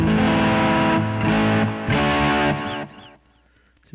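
Electric guitar played through distortion with heavy reverb, strummed chords ringing loudly for about three seconds, then cutting off to leave a fading reverb tail and near silence.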